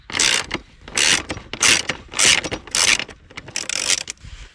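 Ratchet wrench on a U-joint backing out a lower cowling bolt on a Mercury ProXS 115 outboard, giving about six loud bursts of rapid metallic clicking with short pauses between them.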